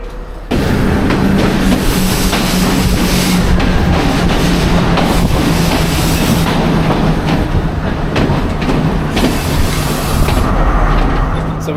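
A passenger train on Sri Lanka's scenic Ella to Kandy line rumbles steadily along the rails, wheels clacking rhythmically over the joints in a loud, continuous ride with no talking.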